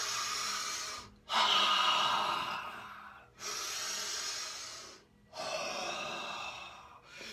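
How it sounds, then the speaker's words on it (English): Forceful rapid fire breath during a morning qigong-style meditation, with three long bursts of loud, hissing breathing separated by short silent gaps, close and alone without speech. "Bring in that fire breath."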